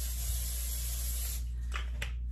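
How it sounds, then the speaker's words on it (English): Regular Pam cooking spray misted onto chicken fingers before air frying: a continuous close hiss over a steady low hum, with a couple of brief bursts near the end. "So I'm gonna spray it with a little Pam."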